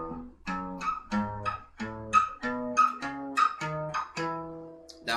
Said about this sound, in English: for a major scale, for example, it's whole step, half step, whole step, whole step, whole step, and then half step